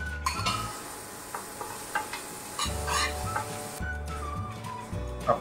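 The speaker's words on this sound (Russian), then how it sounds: "А пока наш лук жарится" Onion sizzling in a pan with occasional stirring scrapes and clinks, steady frying hiss throughout, light music in the background.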